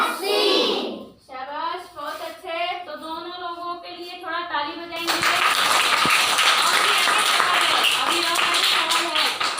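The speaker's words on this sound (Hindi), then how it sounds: "तो दोनों लोगों के लिए थोड़ा ताली बजाएंगे।" A classroom of children bursts into loud, sustained clapping and applause that fills the second half. Before it, a teacher speaks and the class chants together.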